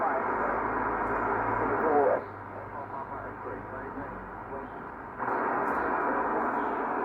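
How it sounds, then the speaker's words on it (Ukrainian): Radio static through an indoor antenna strung over a window with a metal plate, a steady band-limited hiss that dips for a few seconds then returns, a faint station buried underneath. "На фоні тих шумів можна почути радіостанцію, ну але отак от воно шумить."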